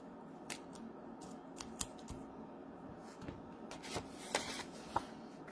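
Card stock is slowly peeled off a crafted greeting card to reposition it, giving faint, quiet crackling and scattered sharp little ticks and tearing sounds.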